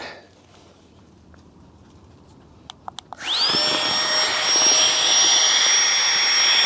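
A Flextail Gear electric pump inflates a sleeping mat at a camp, a few clicks followed by a sudden loud, steady high-pitched whining hum that holds on close by.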